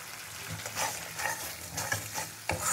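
Kashmiri chili and coriander powder masala being stirred and fried in a pan, with a steady close sizzle broken by repeated scraping strokes of the spoon, loudest near the end.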